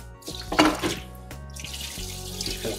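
Water splashes and gushes into a kitchen sink in a quick pour from a pot of soaking beef bones, followed by a steady rushing flow, close and fairly loud with no talking.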